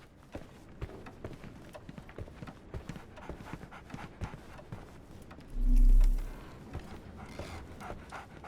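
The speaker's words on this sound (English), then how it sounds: "So, Barnes has a dog now" A dog in the video game Sherlock Holmes The Awakened pants and patters about close by, with quick rhythmic breathing and light footfalls and one short low thump partway through; no speech.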